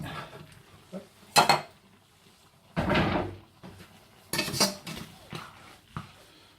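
Broccoli tumbles into a pan already holding pancetta, followed by a few loud clattering bursts of pan and utensil contact and scraping during the sauté, close and with no talk.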